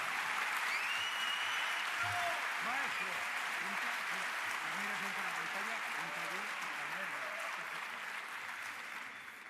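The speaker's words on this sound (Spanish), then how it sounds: "Un aplauso enorme a Ambrosio Liceaga." A large audience at a Naukas 2017 science talk applauds continuously for several seconds, easing off slightly toward the end, while a voice talks over it.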